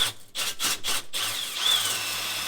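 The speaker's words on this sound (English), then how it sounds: "After you torch it, come in there with a wire brush on a drill." Wire brush spun on a power drill scouring torched seam sealer off sheet metal on a Nissan 350Z drift car, several short bursts of loud rough scrubbing followed by a steadier abrasive whine.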